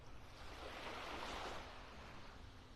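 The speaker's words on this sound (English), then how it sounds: "Just some little ripples here on the shore." Small, gentle ripples lap softly on a calm morning beach shore at Vanderbilt Beach in North Naples, Florida, a faint continuous wash swelling slightly and receding, with no voices.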